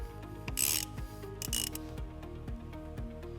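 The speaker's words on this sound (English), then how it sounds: "We're going to remove this nut using a 10mm socket." A ratchet with a 10mm socket loosens the battery terminal nut on a 2012 Dodge Nitro, giving close, quiet, rhythmic clicking pawl strokes with a few scraping rubs between them.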